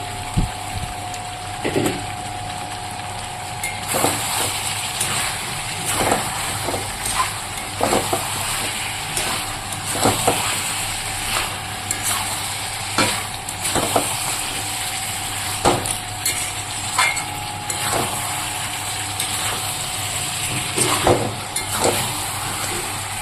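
Fried potatoes go into a pan of spicy mutton curry and are stirred. A steady sizzle runs underneath while regular clanks and scrapes of the spatula repeat every second or two.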